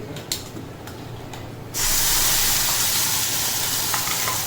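Goan fish curry paste hits a hot pan at about two seconds and breaks into a loud, steady sizzle, following a quieter stretch broken by a few faint clicks; the frying hiss then holds strongly to the end.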